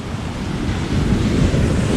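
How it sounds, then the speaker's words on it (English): Big, choppy sea waves at Lamai Beach on Koh Samui, Thailand, roar as a dense, continuous wash of surf, loud and close, with gusting wind buffeting the microphone. "sometimes in triathlons you have waves like this."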